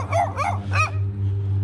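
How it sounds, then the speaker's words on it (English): A neighbor's dog barks and yips three times in quick succession, fairly close, over a steady low machine hum from a yard being regraded around a pool. "Got the neighbor's dog fussing at us."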